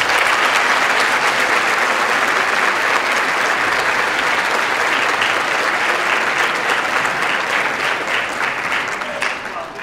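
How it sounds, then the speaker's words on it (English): Sustained applause from a school concert audience, loud and steady for nearly ten seconds before beginning to taper at the end. "Please give them a round of applause."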